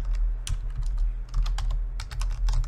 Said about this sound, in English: then you type dbo, and then we type the table names, semicolon, enter